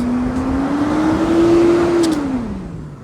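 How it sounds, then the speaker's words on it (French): A loud truck engine in a Miami driving video game drones steadily, its pitch rising slightly then falling near the end, continuous and close throughout with no talk. "le camion il fait grave du bruit"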